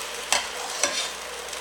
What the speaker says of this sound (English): you can really put about half the broth in right here at the beginning